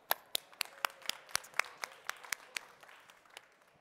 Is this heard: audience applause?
yes